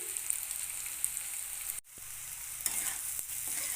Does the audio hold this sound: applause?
no